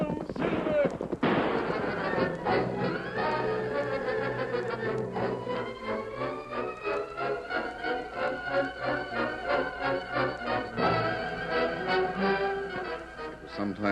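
Gunfire rings out in a Lone Ranger radio drama episode, with a sharp report early on, then dramatic music and voices carrying through the rest.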